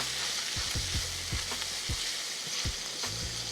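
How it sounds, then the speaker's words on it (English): A skillet deglazed with vodka hisses in a loud, dense sizzle, with rhythmic low scraping taps of a utensil working the bottom of the pan. "So just try to deglaze your skillet a little bit, get some of that flavor up off the bottom of there."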